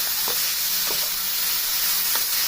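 Carrot and sugar mixture being stirred in a pan over a low flame while making carrot sweets, a steady soft sizzle with a few light scraping strokes of the spoon, close and continuous with no voices.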